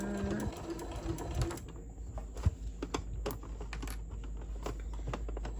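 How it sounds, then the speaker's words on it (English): A sewing machine back stitching over a zipper while a spooky-themed zipper pouch is sewn, rapid mechanical needle chatter in short bursts with quick clicks, close and fairly quiet, with no talking. "Back stitching again over the zipper."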